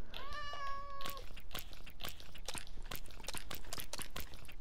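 A cat meows once in Minecraft Bedrock Edition, a clear, tonal in-game cry at the start. Rapid clicking and tapping sounds follow and continue to the end.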